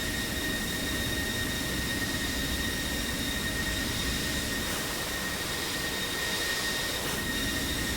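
An F-16C Viper flying in the DCS combat flight simulator, its jet engine a constant, dense roar with a faint high whine running steadily throughout, no voices over it.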